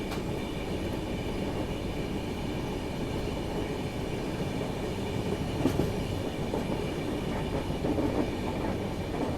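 Inside the Toofan Goa Superfast Express on its Delhi to Belagavi run, a steady low rumble of the moving train fills the carriage, with faint clickety-clack of wheels over rail joints and no talking.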